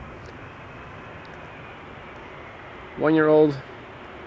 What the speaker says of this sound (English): KLM flight 644. Arriving from New York, JFK, 787-10 Dreamliner, 6 hours and 23 minutes underway.